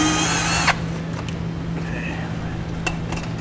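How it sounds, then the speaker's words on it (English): A drill bit bores through a rubber firewall grommet on a 2015 Cadillac SRX, a brief close whir that stops within the first second and leaves faint clicks and handling noises. "Using a drill bit, we'll go ahead and open it up large enough"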